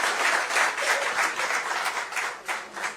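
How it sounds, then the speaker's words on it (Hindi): Steady applause from an audience at a Maharashtra gathering of Rajasthani migrants, honoring Gopal Shetty: dense, continuous clapping across the whole stretch, fairly loud and close, with no voices over it. "एक बार गोपाल जी के लिए भी एक बार तालियां"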